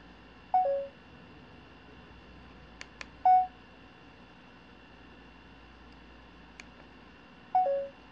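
Beeps from an Ulanzi CapGrip Bluetooth remote on a smartphone handle grip as video recording stops: three short two-tone electronic beeps spaced a few seconds apart, with faint clicks between, in a quiet room.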